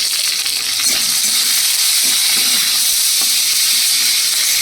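Peanuts fry in a pan with a little sugar and turmeric, giving a loud, continuous sizzle with scattered soft clicks and rattles as the nuts shift and are stirred.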